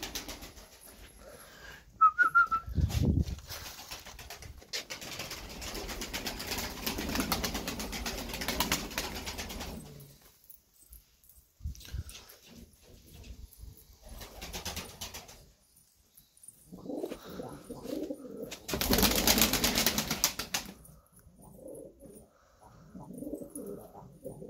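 Pigeons coo in a coop of Turkish tumbler pigeons, soft low calls joined by brief wing flapping and rustling, with quiet gaps between bursts of activity.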